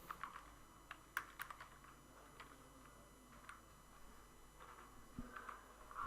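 Typing on a computer keyboard, a faint scattering of light key clicks with irregular pauses, quiet and close in an otherwise still room.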